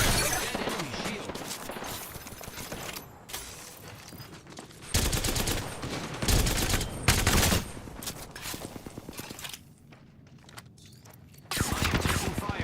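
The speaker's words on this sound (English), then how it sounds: "I am taking fire." Bursts of automatic gunfire and shots in a shooter video game, loud and dense, with brief pauses between volleys and game voices mixed in.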